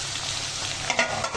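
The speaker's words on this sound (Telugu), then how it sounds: "కట్ చేసి పెట్టిన వంకాయ ముక్కల్ని నూనెలో వేసి మంచిగా కలిపి మూత పెట్టి మగ్గించాలి" Brinjal (white eggplant) pieces fry in oil while being stirred, a brief steady hiss of sizzling with a couple of faint clicks near the end.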